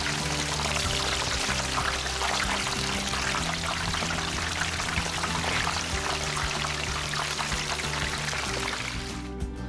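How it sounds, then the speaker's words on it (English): A whole turkey is lowered slowly into a pot of hot frying oil, giving a loud, continuous rushing sizzle and bubbling that holds steady for about ten seconds, near and alone. "slowly lower the turkey into the hot oil"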